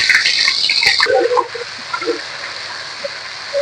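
Ginger paste dropping into hot oil already crackling with mustard seeds, fenugreek, curry leaves and dried red chilies for Chittoor-style fish curry, giving a loud hiss that fades to a steady sizzle with scattered pops.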